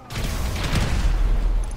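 Explosions in the GTA video game, a loud sustained burst of booming blasts with deep low rumble and a crackling wash, starting abruptly and holding for under two seconds.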